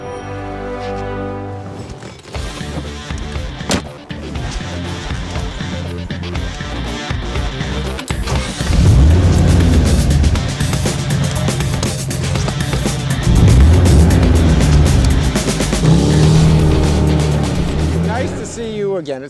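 A rusted 1955 Chevy rebuilt with a swapped-in engine drives along, its engine drone climbing into louder, harder surges as it accelerates, close and strong throughout.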